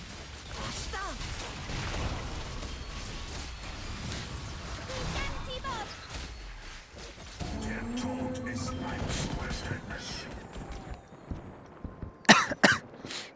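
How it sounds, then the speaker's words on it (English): A person coughs a few times near the end, short sharp bursts standing out after a stretch of busy game sound and music during a Teamfight Tactics match. "that's the first time I coughed"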